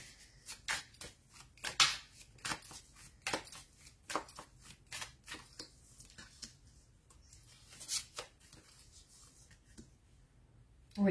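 Tarot cards are shuffled and drawn close up, with a steady run of crisp papery flicks and slaps in irregular bursts across the whole stretch, and no one speaking.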